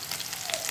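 Cauliflower pakoras deep-frying in oil in a kadai over medium heat, a dense continuous sizzle and bubbling crackle heard up close, with no talking.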